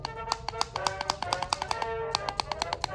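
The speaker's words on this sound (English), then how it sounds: "Oh, and I forgot to mention that the magazine sounds like this." Magazine of a Siren Maulr foam dart blaster clicking, a rapid run of sharp plastic ticks in an irregular rhythm, close and fairly quiet over faint background noise.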